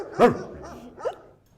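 A dog barks loudly once nearby, then gives a softer, shorter second yelp about a second later, standing alone against a quiet room.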